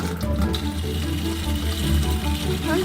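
Rainwater pours steadily into a food-grade plastic barrel, a continuous close splashing rush with a hollow ring, no voices over it.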